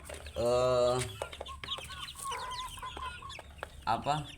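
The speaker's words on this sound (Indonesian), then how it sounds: "di sini ayam mardi" Mardi chickens cluck and call close by in a small home-scale poultry setup, with a loud drawn-out squawk at the start and scattered clucks after.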